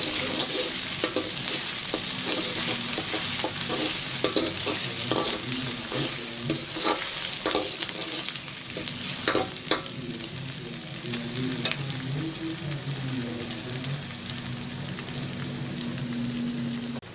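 Green chillies, ginger, garlic, cumin and curry leaves frying together in a pan for a village-style potato and eggplant dish, a steady close sizzle with occasional stirring clinks and crackles throughout, no talking.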